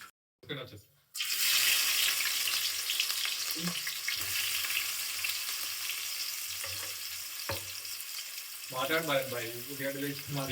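Onions dropped into hot oil in a pan, starting with a sudden loud sizzle that holds as a steady close hiss, with a few clinks from stirring and a voice talking over it near the end.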